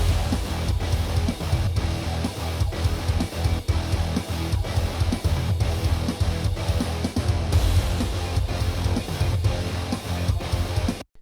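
Dense heavy rock mix with screamed vocals, pounding drums and effects, loud and continuous throughout with no talking over it.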